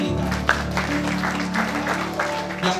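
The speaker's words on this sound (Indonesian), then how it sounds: "Tepuk tangan bagi Allah kita." A church congregation claps during a sermon, with a brief sharp burst and then scattered clapping over sustained organ or keyboard chords, moderately close.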